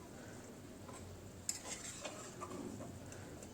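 A spatula scrapes and stirs fried potatoes into a simmering fish curry in a pan, with a sharp utensil clink near the middle and faint sizzling underneath.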